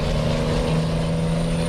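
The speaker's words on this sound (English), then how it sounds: "You guys can hear the roar of this engine." A truck engine roars in a loud, steady drone with a deep, rumbling hum that holds without a break for the whole stretch.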